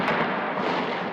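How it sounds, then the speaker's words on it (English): Gunfire rings out on a bridge during violent street clashes with anti-government protesters in Egypt, heard as a loud, dense, continuous roar of shots and blasts with no separate reports standing out and no talking. "Gunfire on the bridge aimed at anti-government supporters"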